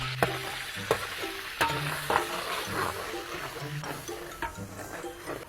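Garlic sizzling in a frying pan for a noodle sauce, a soft steady crackle under repeated sharp scrapes and clacks of a utensil stirring, fairly quiet and close.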